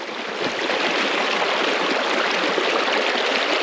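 The Kootenai River near Lake Kootenai in Libby, Montana, flows as a steady, loud broadband rush of moving water, continuous and close with no breaks or voices.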